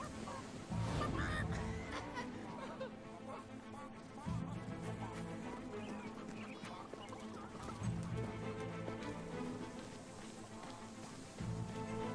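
Chickens cluck and squawk repeatedly in the video game Fable 3 over a busy, constant musical backdrop, with bursts of honking calls cutting through now and then.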